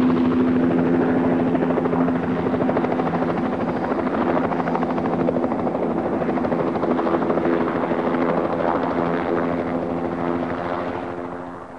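A mountain rescue helicopter flies close by in the fells, its rotor thudding in a loud, steady pulse with engine whine that holds throughout and fades slightly at the end.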